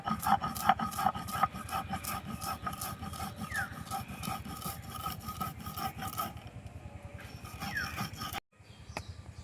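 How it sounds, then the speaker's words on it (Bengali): Fried spices and chillies ground finely by hand on a stone slab with a stone roller (shil-nora), a steady rhythmic rasping scrape of stone on stone, close and continuous, briefly pausing near the end. "এবার এগুলো বেটে নেব আমি শিলনোড়ায়, একদম মিহি করে বেটে নেব।"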